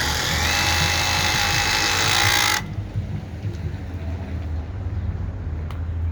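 A DeWalt impact driver runs loud and continuous for about two and a half seconds, then cuts off abruptly, leaving only a lower background hum, with no voices.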